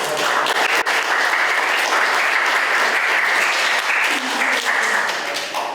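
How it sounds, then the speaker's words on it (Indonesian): Steady, dense audience applause fills the room at an Indonesian student presentation event, loud and sustained throughout with no pauses or talk over it. "tepuk tangan sekali"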